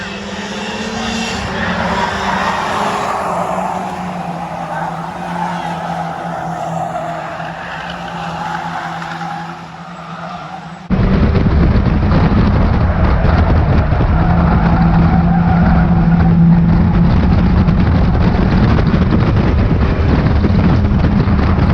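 Stock cars racing through the closing laps of a race, engines droning loud and continuous, with a sharp jump to an even louder, closer roar partway through as the pack passes.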